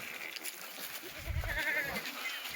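A Kathiawadi goat bleats once, faintly and a little way off, a short wavering call over low background murmur at a livestock market.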